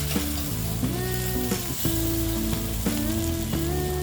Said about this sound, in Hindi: नमक डालने के बाद हमने 2 मिनट और फ्राई कर लिया है।